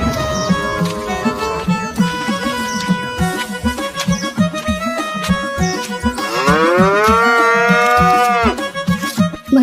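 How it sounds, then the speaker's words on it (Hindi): Buffaloes tied up in a stable low repeatedly with deep, droning moos, one swelling into a long, drawn-out bellow. The lowing is close and loud, with no voices. "जहाँ सारे भैंसे बंधे थे।"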